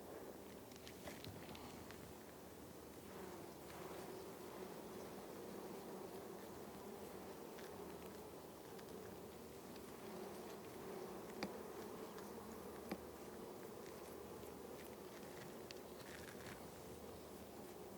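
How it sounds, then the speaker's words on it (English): Honey bees buzz continuously around a frame of honey being brushed during a harvest, a steady close swarm drone with occasional faint taps, no voices. "Get off, little bees."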